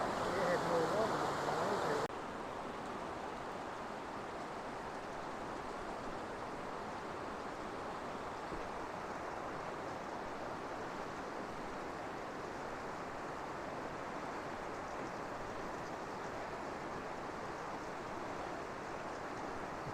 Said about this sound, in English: There's a waterfall right over there.